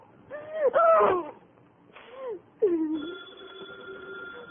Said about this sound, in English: The phone kept ringing